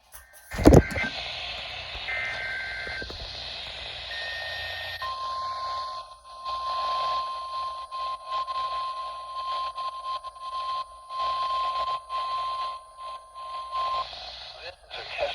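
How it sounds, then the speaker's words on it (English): A NOAA Weather Radio warning alarm test plays as a long, steady, piercing tone over static-filled radio broadcast noise, after a short burst of tuning chatter. "This is a test of the NOAA Weather Radio warning alarm device."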